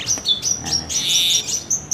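White-rumped shama (murai batu) giving a series of bright, high chirps and short whistled phrases, close and clear, several quick notes in succession with brief gaps.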